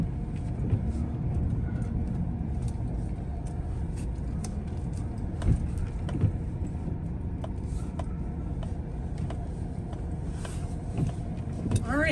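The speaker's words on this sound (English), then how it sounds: "I'm just gonna park the truck" A truck drives and pulls in to park, its engine a low steady rumble with scattered clicks and knocks, while someone talks over it.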